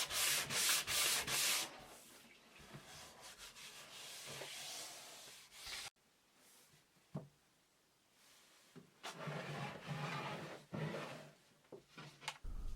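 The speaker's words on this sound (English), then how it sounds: "I start sanding the whole body until I get it very clean" Sandpaper rubbing along a black limba Stratocaster guitar body with the grain, giving steady rasping strokes in bursts with a brief pause midway, close and fairly loud.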